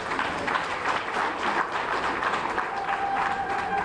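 Audience at a union women's event clapping in a steady, sustained wash of applause, a dense crowd patter with no clear voices over it.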